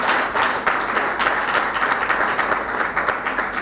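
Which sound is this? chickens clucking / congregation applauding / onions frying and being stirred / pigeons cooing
congregation applauding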